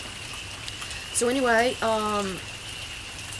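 Steady rain falling outdoors on a rainy day, a constant hiss throughout while a person speaks briefly over it.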